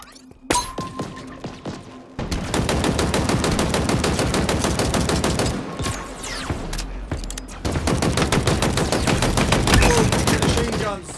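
Rapid automatic machine gun fire from the Halo video game, long sustained bursts rattling loudly and closely with brief pauses between volleys, no talk over it.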